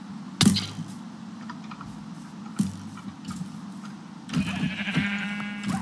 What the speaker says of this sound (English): Sheep, I'm coming for you.